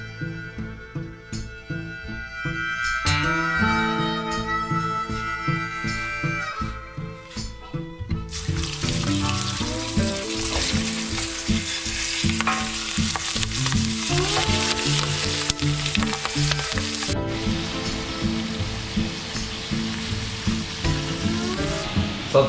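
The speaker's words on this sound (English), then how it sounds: "We're going to use that bacon fat to brown up the turkey." Turkey pieces sizzle loudly in hot bacon fat, a dense, continuous frying hiss with bursts of spattering and stirring throughout.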